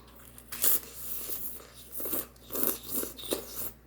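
Someone eats a soft, sauce-soaked taco that is breaking apart, with several close crunchy bites and wet chewing bursts in an uneven rhythm, no talking.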